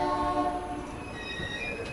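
A passenger train in Maharashtra rolls along the rails with a steady rumble and faint metallic ringing tones, heard continuously from close by.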